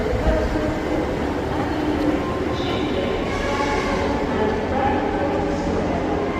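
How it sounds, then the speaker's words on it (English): A Class 150 diesel train pulling into Leeds station, its steady low rumble and engine drone filling the platform continuously, with faint higher whines riding on top. "Class 150 coming in."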